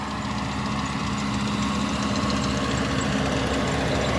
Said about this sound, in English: The John Deere tractor behind me.